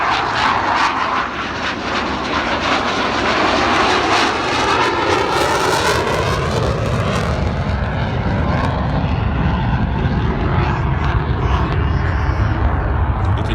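A SAAB Gripen fighter jet flies a slow high-alpha pass at an air show. Its engine roars loud and continuous, swelling and shifting pitch as it passes, with no one talking.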